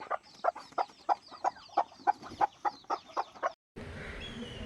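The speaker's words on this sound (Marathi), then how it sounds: "खूप ॲग्रेसिव्ह अशी ही कोंबडी आहे" An aggressive hen with young chicks clucks in a quick, steady series of sharp calls close by, about a dozen in a row, then stops abruptly before a burst of hiss.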